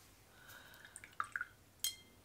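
Watercolor-laden water drips from a loaded paintbrush: a handful of small, quiet, sharp droplet taps land in quick succession over a near-silent background.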